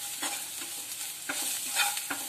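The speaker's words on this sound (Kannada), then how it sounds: "ಈಗ ಚೆನ್ನಾಗಿ ಕಲಸಬೇಕು" Aloo kurma cooking in a pan with chilli powder, garam masala and salt is stirred in soft, regular scrapes over a low, continuous sizzle.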